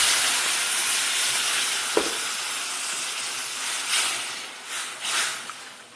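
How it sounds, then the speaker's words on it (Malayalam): Water poured into a hot pan while cooking chickpea curry gives a steady, loud steam hiss and sizzle. A soft clink and a few brief bursts of bubbling follow near the end, with no talk. "എന്നിട്ട് കുറച്ച് വെള്ളം ഒഴിച്ച് കൊടുക്കുക."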